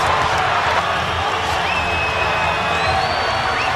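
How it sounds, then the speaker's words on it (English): A boxing arena crowd stands and cheers, a dense, loud, continuous roar of voices throughout. "And the crowd stands and cheers Roy Jones."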